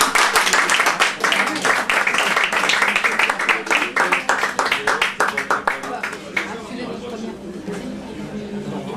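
Audience applause after a poetry reading at a French venue, brisk clapping from a room of people with distinct individual claps audible, gradually thinning and tapering off while murmured voices and chatter continue underneath.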